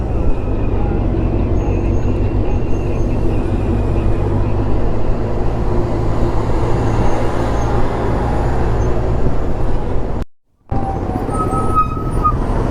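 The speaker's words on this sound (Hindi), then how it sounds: "बहुत ट्रैफिक आज।" Steady broadband roar of heavy road traffic and engine noise heard while riding a Kawasaki Versys 1000 motorcycle in a group near Shillong, loud and continuous, with a brief dropout near the end.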